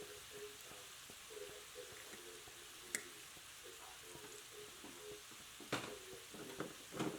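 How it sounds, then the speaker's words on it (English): Shrimp stirred in a pan with Cajun seasoning, Italian seasoning and garlic powder give a faint, steady sizzle, with a few sharp clicks and scrapes from the stirring. "I'm just going to continue to stir these shrimp and let them cook so they're cooking on all sides"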